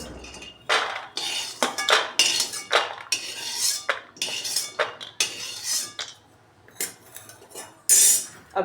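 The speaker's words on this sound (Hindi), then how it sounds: "तो दाने सिक गए हैं, दाने निकाल लेते हैं।" Roasted peanuts are scooped out of a metal kadhai, a run of scraping, rattling scoops in short bursts with brief pauses, close and clear with no talk.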